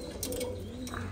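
A pigeon coos nearby, a short soft throaty call with a low rolling tone heard alone.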